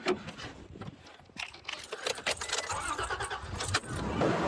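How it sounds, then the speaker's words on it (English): Keys jangle close by as a car engine cranks and catches during a roadside tire patch, the steady running noise building louder toward the end. "Gotta start the car."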